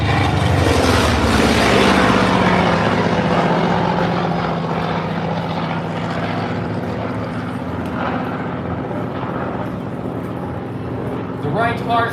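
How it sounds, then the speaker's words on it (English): A Douglas Skyraider close air support plane, powered by a Wright R3350 radial engine, makes a topside pass, with a loud roaring drone that peaks early and then fades gradually as it passes, with a person talking over it. "Take a look at this topside pass of this most impressive close air support aircraft."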